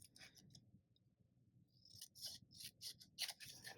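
Scissors snip down a paper notebook insert, a series of quiet, close crisp cuts, a few early strokes and then a rhythmic cluster of rapid snips toward the end.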